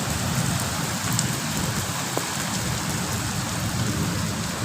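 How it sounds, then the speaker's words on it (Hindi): Heavy rain pours steadily with a gusty rush of wind, and a faint low rumble of thunder sits underneath. "बारिश भी बहुत तेज़ है पई लेकिन हवा भी बहुत तेज़ है"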